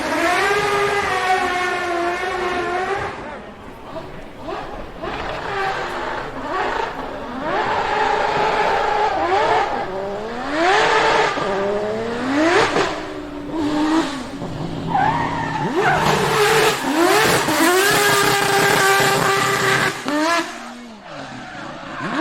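A 1000 hp Mazda rotary-powered McLaren P1 doing a burnout, loud screaming engine revs rising and falling over squealing, skidding tires, continuous and close throughout.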